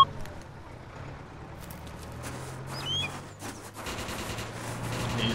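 An APC machine gun in Arma II fires rapid bursts of shots from a distance. Engine rumble and scattered battlefield noise run underneath, with a voice speaking over it.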